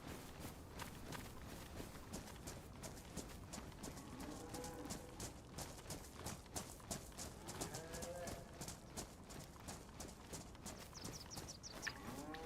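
Distant cattle lowing now and then in the video game DayZ, Chernarus map, over a busy background of rapid clicking and rustling, with faint low calls rising in the middle.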